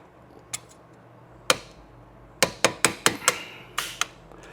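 A hammer strikes the brake caliper pins on a 1988 Porsche 911 to drive them out, landing a handful of sharp metallic whacks up close. The blows come singly at first, then in a quick run of about eight.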